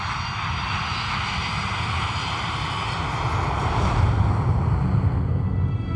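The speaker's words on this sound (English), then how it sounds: "The plane is a Tupolev 154." A Tupolev 154 airliner with Bashkirian Airlines cruises at night, giving off a steady, loud broadband engine roar with a low rumble that swells slightly toward the end, and no voices.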